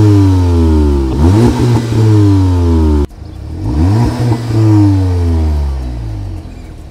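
A VW Golf R Mk7.5 engine revs hard outdoors by a harbour, two strong rising-and-falling revs with deep exhaust tone, loud and close, no talking.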